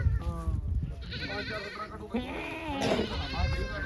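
Goats bleat repeatedly at a crowded livestock market, several wavering calls rising over a steady murmur of nearby voices and farmyard bustle.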